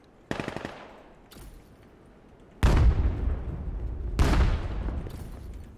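Gunfire in a 5v5 competitive shooter match, with a few loud, close, sharp shots whose booming tails ring out. Roughly four separate bursts come at uneven intervals over a quiet background.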